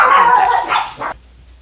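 Dogs in a backyard barking and yipping loudly and close by, a run of several overlapping barks that stops abruptly, leaving near silence.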